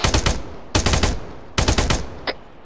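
Gunfire in the military video game ARMA 3: three loud, rapid bursts of automatic fire, each about half a second long with short gaps between them, then a brief sharper shot near the end.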